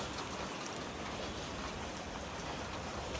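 Steady, soft rain falls continuously, a quiet even hiss with no voices or other sounds.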